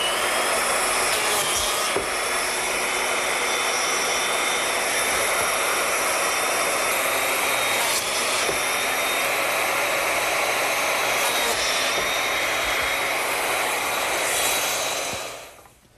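A biscuit joiner cuts slots in wood boards for a Shaker-style box, a loud, steady high motor whine with a few brief plunge surges, running for about fifteen seconds before spinning down, with no voices.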